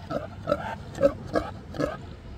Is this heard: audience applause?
no